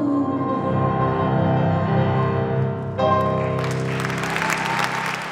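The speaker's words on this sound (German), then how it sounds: "Doch hier gibt es Applaus für Ariana Said." Applause at a German event honoring Afghan woman Ariana Said, steady clapping mixed with music-like tonal layers, brightening and swelling in the last couple of seconds.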